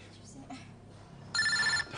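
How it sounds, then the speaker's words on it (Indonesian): A mobile phone rings in a dramatic indoor scene, a bright trilling ringtone bursting in for about half a second after quiet murmuring and faint background voices. "Ngapain sih tuh orang telepon lagi?"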